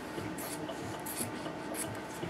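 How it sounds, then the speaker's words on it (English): Fabric being cut for the midriff piece of a draped top, giving soft repeated rasping snips and rubbing close by, steady and quiet with no talking. "What I'm doing here is I'm cutting out my midriff."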